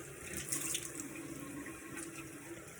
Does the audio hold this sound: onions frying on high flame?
no